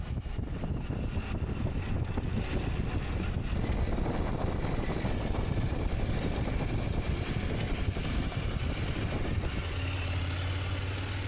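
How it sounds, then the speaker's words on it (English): Steady engine rumble of motorcycles riding on a trail in Brabant, Netherlands, a continuous broad roar without pauses, fairly distant and even, with a low hum settling in toward the end. "the sound of our motorcycles joined this idyll"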